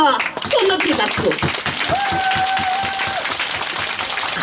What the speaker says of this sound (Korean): 손 높이 박수.